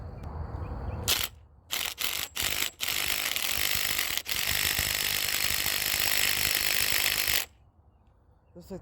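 A DeWalt impact gun hammers at E11 Torx bolts on a Chevy Cruze engine, opening with several short bursts, then a long sustained rattling run before stopping, heard up close.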